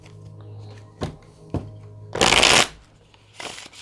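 Tarot deck being shuffled by hand, a few short card taps and slaps followed by one loud riffling burst about half a second long, then a final lighter shuffle.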